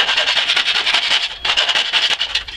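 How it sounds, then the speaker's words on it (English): Rhythmic rasping strokes of a half round file smoothing sharp metal edges, fast and close, with a brief pause midway before the strokes resume. "Now we'll use a half round file"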